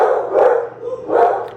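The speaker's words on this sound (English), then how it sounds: "And they've just been barking at everything today." Pet dogs, unsettled after a night of thunderstorms, bark indoors, with two loud, close bursts of barking about a second apart.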